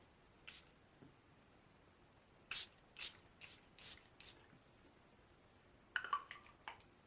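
A pump sprayer misting makeup gives several short, soft bursts in an uneven rhythm, followed by faint clicks and handling rattles in a quiet room.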